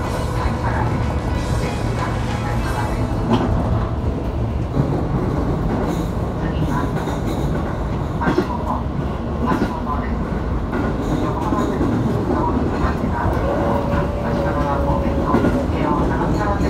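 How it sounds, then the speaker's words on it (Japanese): A 205 series electric train runs on the Sagami Line near Hachiōji, with continuous rumbling wheels and rhythmic clickety-clack over rail joints, a faint squeal of wheels, and steady interior running noise throughout. "まもなく下り線と再び合流し、列車は相原駅に到着いたします。"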